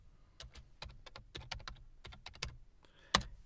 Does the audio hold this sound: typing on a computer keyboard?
yes